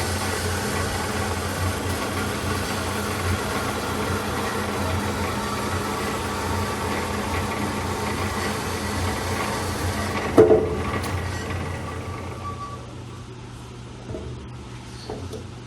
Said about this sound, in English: the preceding video was a DOALL 916 automatic horizontal bandsaw showing an automatic mode